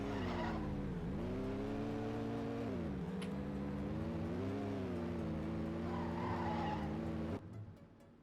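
A race car in Trackmania slides in a long, loud tire skid, its engine droning with a wavering pitch for about seven seconds before the sound cuts off abruptly.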